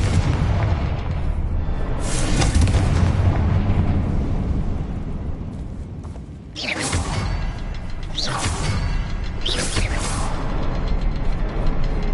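Repeated Confringo blasting spells in Hogwarts Legacy, each a loud booming explosion with a sharp swooshing onset. Three or four blasts go off in quick succession over a dense, rumbling background.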